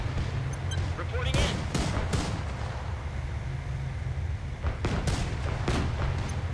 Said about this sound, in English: These mortars at the moment are engaging the BMP-3